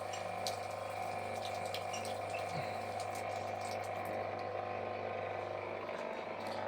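Tap water runs steadily into a freshwater aquarium tank, a continuous close splashing rush with a faint mechanical hum from a running aerator pump, and no voices.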